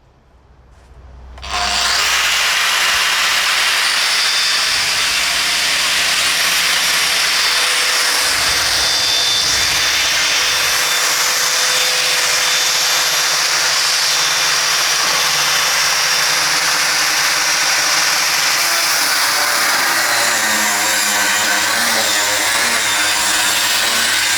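A Metabo WEVBA 20-125 BL Quick brushless 2 kW angle grinder switches on and spins up fast to a loud, steady high whine. It keeps running close by with slight shifts in load and no talking.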